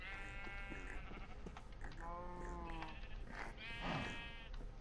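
Sheep bleating in TerraFirmaPunk, a Minecraft-style video game: several wavering, nasal bleats come in close succession over a low background hum, loud and near.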